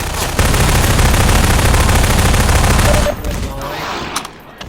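Sustained automatic gunfire in the video game Half-Life Lost Coast, a loud, dense burst lasting about three seconds that then cuts to quieter game noise while someone speaks briefly.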